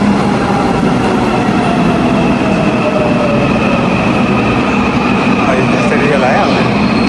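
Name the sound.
train arriving at a station in Korea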